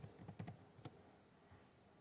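A file name is typed on a computer keyboard as a quick burst of faint, soft key clicks followed by a lone tap in a quiet room.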